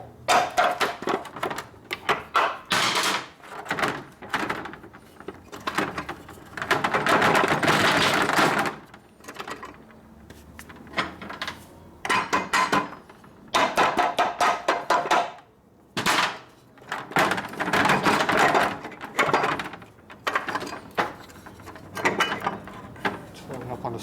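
A hammer taps lightly on a 1961 Harley-Davidson Sportster XLCH Ironhead motor during an engine rebuild. Quick bursts of metallic knocks come in clustered rounds with short pauses between them.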